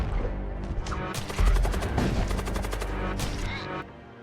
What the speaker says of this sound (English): We're almost ready to charge weapons, or we are charging weapons. Almost ready to fire. Fire.